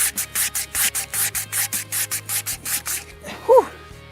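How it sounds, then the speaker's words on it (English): Sandpaper rubbing over PVC pipe lengths in preparation for spray paint, a steady rhythm of about fourteen close, even back-and-forth strokes that stops near the three-second mark, after which a brief voice sound follows. "get all these sanded, get them prepped"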